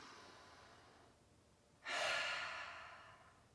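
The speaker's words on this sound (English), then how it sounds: "Take 1 more big breath with me." A single deep breath, close and alone, during a yoga session: a long inhale rises into a loud, airy exhale that fades over about two seconds.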